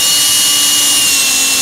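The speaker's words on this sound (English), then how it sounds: "We need to drill our guide holes." Electric drill boring guide holes into the wooden back panel of a homemade hedgehog house box, a steady high whirring run held for the whole stretch at close range with no talk.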